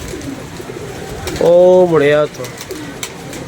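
Pigeons kept in an enclosure give one clear, close cooing call in two swelling parts, set among faint background noise, with a man's speech heard briefly around it.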